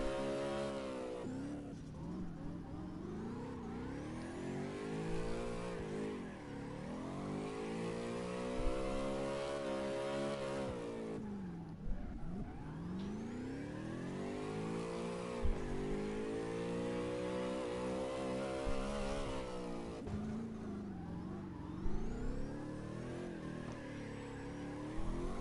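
A car engine in the CarX Drift Racing video game revs hard through long rising and falling sweeps, climbing, dropping at each gear shift and climbing again, loud and continuous for the whole stretch with occasional tire skids.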